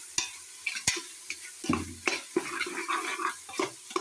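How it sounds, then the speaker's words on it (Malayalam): Ginger garlic paste is sautéed in a pan for chicken curry, making a close sizzle broken by repeated scraping strokes of a spoon stirring. "ഇത് നന്നായിട്ടൊന്ന് വഴറ്റി എടുക്കാം."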